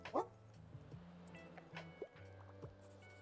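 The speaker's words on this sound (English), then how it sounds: "Throw the dog a treat." A video game dog lets out one sharp bark up front, followed by softer scattered yips and small clicking sounds against a quiet backdrop.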